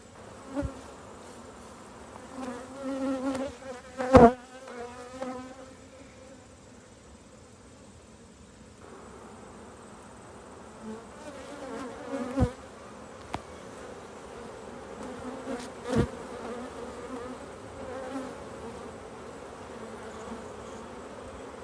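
Honey bees drone and buzz steadily around a backyard beehive, a dense close insect hum with louder swells as individual bees pass near, with no talking.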